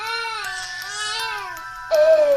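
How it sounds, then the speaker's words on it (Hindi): A baby-like wail rises and falls in long, tremulous cries, loud and close, ending with a sharper, higher sob. "तुम जाकर देखो कि इतनी रात्रि में कौन रो रहा है।"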